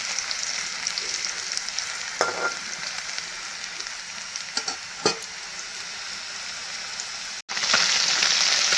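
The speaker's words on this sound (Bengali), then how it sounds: "আলুটাও ভাজা হয়ে গিয়েছে, আর একটু ভাজা হয়ে গেলে আমি নামিয়ে নেব" Potatoes and fish fry in an oiled pan with a steady, close sizzle, broken by a few sharp stirring scrapes and clinks; after a brief dropout near the end the frying returns louder and brighter.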